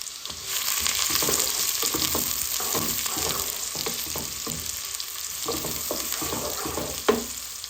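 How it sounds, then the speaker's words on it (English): Single onion sizzling in warm oil for an aloo palak curry, a steady loud fry with scraping stirs and a sharper clack near the end, no voices. "The oil is warm now. I'm going to add my 1 onion. And fry the onion."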